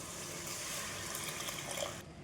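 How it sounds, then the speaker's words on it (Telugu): Tamarind juice pours into a pot of sambar as a steady liquid gush and splash that runs evenly and then cuts off near the end, with no voices. "ఇప్పుడు ఇందులోకి చింతపండు రసం పోసుకుందాం."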